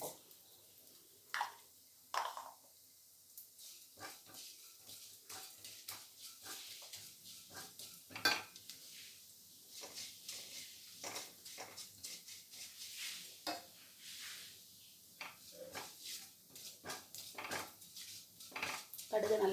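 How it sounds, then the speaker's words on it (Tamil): Mustard seeds splutter in hot oil for tempering amla rice, scattered sharp pops and crackles coming in irregular bursts alongside occasional clinks of a metal utensil against the pan, fairly quiet overall. "கடுகு நல்லா பொரியட்டும்."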